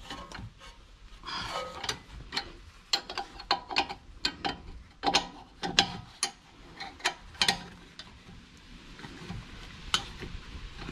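A hand ratchet tightens the brake caliper bolts on a Mercedes W166 ML350 during a brake disc and pad change, giving a close series of sharp, clicking ticks in uneven bursts that ease off toward the end.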